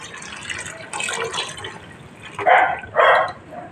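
Water poured into the milk of a whole coconut for a Konkani lapsi rava dish, two short splashy pours close by near the end after quieter handling sounds.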